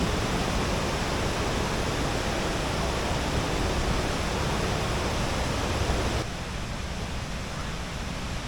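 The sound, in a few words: waterfall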